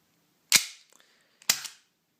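A Tokyo Marui Samurai Edge airsoft gas pistol firing on leftover gas, two sharp close snaps about a second apart with short hissy tails.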